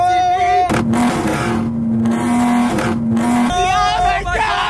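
At a car meet, a car holds a loud, steady high-rev drone on 2-step launch control, broken by crackling bursts, before the revs drop off and rise again.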